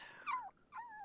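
A dog in the life-simulation game The Sims 4 gives two short whining yelps, close and clear, with no talk over them.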